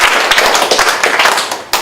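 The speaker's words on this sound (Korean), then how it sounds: "박수 주세요." A handful of people clap at a Korean sales seminar, uneven, fairly close hand slaps with a few sharp taps in a short burst.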